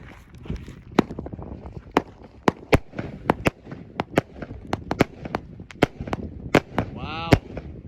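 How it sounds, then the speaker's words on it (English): A 100-shot Blood and Honey firework cake by Beandejo Fireworks firing a rapid, uneven string of sharp loud bangs and crackling bursts nearby, with faint voices in between. "100 shot firework called Blood and Honey by Beandejo Fireworks"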